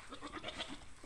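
A male goat courting a female gives a short, wavering bleat, close and fairly quiet.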